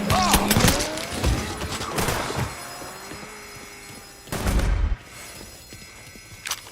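Gunfire in a Mafia III shootout, a loud burst of rapid shots up front followed by more scattered bangs and heavy thuds, with a voice briefly heard amid the action.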